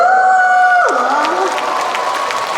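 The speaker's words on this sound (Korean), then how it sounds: "박수!" Audience members clap along at a community music concert in Daejeon. A loud sustained tonal sound glides downward, then a crowd's rhythmic clapping and cheering follow close by and fill the rest of the moment.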